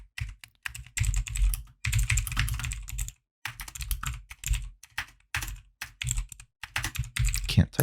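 Keys on a computer keyboard clatter in quick bursts separated by short pauses, close and crisp, while a programmer types code.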